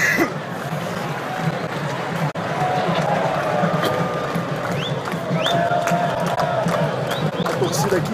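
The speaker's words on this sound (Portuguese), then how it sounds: "A torcida aqui em cima." A football stadium crowd at Morumbi during a São Paulo match, heard from a restaurant above the stands: a distant, steady roar of fans with occasional whistles and rising calls, no clear talk.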